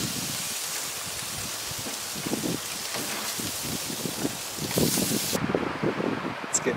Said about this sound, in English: It's getting nasty out here with that wind.